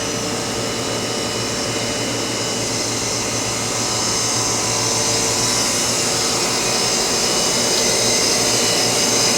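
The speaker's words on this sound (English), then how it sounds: "Here's the rough pump and the backing pump for the turbo. It's an Edwards IQDP40." An Edwards IQDP40 dry vacuum pump, serving as rough and backing pump for a turbo pump on an Oxford Plasmalab 80 Plus RIE system, runs with a steady, loud broadband roar and hum, unchanging throughout with no talk.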